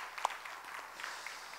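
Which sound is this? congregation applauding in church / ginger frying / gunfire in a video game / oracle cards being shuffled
congregation applauding in church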